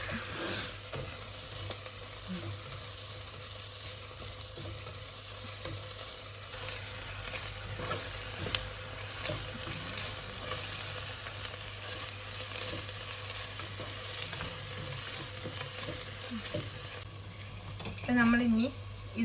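Onions frying in a pan for a Kerala-style mutton curry, a steady loud sizzle with occasional scraping of a spoon stirring, brief clatter near the end.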